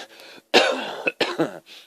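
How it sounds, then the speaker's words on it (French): A few harsh coughs in quick succession, close up, with short pauses between bursts and no talking. "Ça y est, je tousse."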